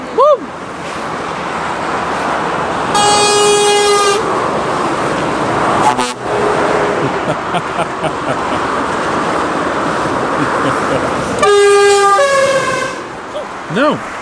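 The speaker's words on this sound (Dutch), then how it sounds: "Schrik maar niet van de toeter." Truck horn blasts loudly twice, each a stacked multi-tone honk lasting about a second, over steady outdoor wind and traffic noise with voices nearby.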